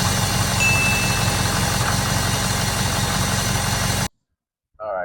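A Ford 6.0 diesel truck engine runs at a steady, loud, close idle with a constant rattly drone for about four seconds before cutting off abruptly; a short voice follows.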